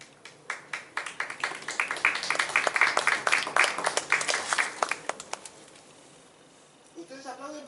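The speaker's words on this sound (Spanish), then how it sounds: "Ustedes aplauden porque me conocen a mí." Audience applauding at a poetry book presentation in a museum, a run of brisk overlapping claps that builds, peaks and then thins out, with talking coming in near the end.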